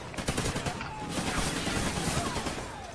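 Rapid automatic gunfire in the online shooter Call of Duty Ghosts, dense bursts of shots crackling one after another for the whole stretch, loud and continuous with a faint voice underneath.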